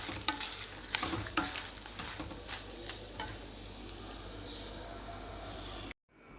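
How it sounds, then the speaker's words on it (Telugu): Urad dal and dried red chillies roast in a pan for a sesame mango pickle, a continuous dense sizzle with sharp crackles and spoon scraping, close and steady, ending in a sudden cutoff. "మినపప్పు మిరపకాయలు రెండు వేగిపోయినాయి."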